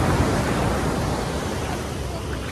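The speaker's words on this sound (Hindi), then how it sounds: "देखिए आवाज आ रही होगी आपको लहरों की" Steady roaring surf of ocean waves breaking on a beach in Kerala, a dense continuous wash of noise without any voices.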